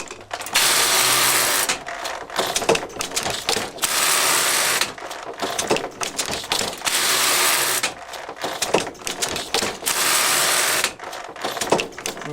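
Framework knitting frame being worked by hand, loud close mechanical rattling and clacking in repeated bursts of a couple of seconds, separated by brief pauses with quieter knocks.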